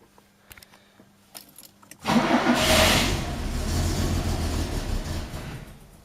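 Fiat 130 in park being cranked with extra choke: a few faint clicks and keys jangling, then the engine catches with a sudden burst and settles into a loud, rough idle close by.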